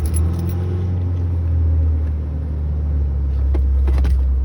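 A 1995 Ford Ranger work truck idles after a cold start following two weeks unused, a steady low engine drone with a deep hum, heard close and alone.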